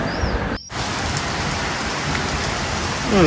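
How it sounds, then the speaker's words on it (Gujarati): A dense, loud downpour in Vadnagar, India, roars continuously, broken by a brief dropout near the start, with the rain swelling slightly at the end. "જબરજસ્ત વરસાદ કહેવાય"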